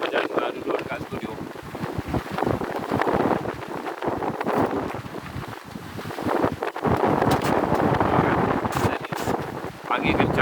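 Strong wind buffets a phone microphone aboard a sailing boat at sea, roaring in loud, uneven gusts with deep rumbling thumps throughout, while faint waves and occasional background voices sit underneath.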